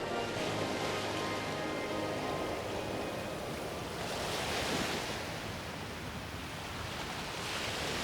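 Sea waves washing ashore on an Arctic coast, a steady broadband wash that swells and recedes gently, with some wind, moderately loud and without voices.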